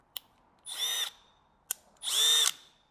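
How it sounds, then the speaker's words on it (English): Two short bursts of a Milwaukee hammer drill whirring at high pitch, each about half a second, preceded by a sharp click, close and loud with no talking. "Next up, the hammer drill."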